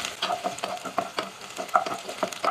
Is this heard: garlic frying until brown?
yes